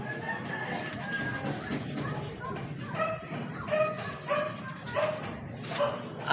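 A dog yips and barks in short, repeated bursts nearby, mixed with whimpering and voices talking at the same time.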